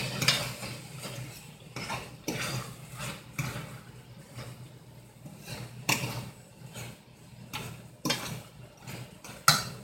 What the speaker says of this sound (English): we're going to stir in the garlic